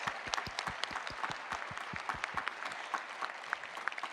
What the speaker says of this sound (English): I'd like to hear more applause for this wonderful service today.